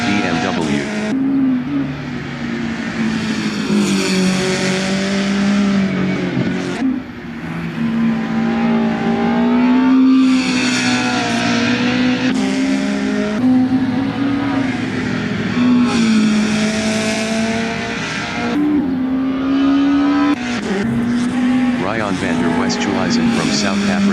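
BMW race cars drive around a circuit during a South African race series session, their engines droning and revving steadily throughout, with a commentator talking over the car noise.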